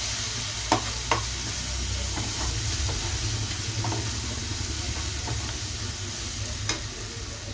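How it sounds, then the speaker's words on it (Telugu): Fenugreek fried rice with coriander powder and chicken masala sizzling and frying in a pan while a spoon stirs it, giving a steady crackle with occasional close scrapes and taps. "ఒకసారి కలుపుగా."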